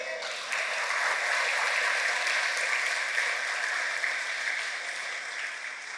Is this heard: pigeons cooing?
no